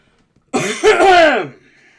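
A single harsh, throaty cough during a live stream, close to the microphone and lasting about one second, with quiet room tone before and after.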